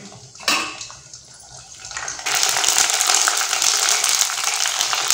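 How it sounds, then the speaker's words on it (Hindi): Golgappa puris drop into hot oil in a kadhai, a soft clink followed by a loud, steady bubbling sizzle that builds and continues close by without speech. "कढ़ाई में तेल डाल रहे हैं गर्म हो गया है इसमें गोलगप्पे तल लेते हैं पहले"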